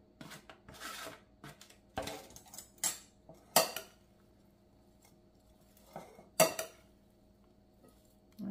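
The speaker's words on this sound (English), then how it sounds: "We will keep stirring it up." Utensils scrape and clink against a bowl while pasta salad with pepperoni is stirred, in irregular bursts of several strokes with quiet pauses between them.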